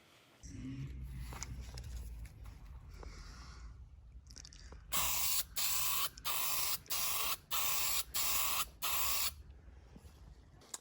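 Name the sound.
spraying spray putty from a can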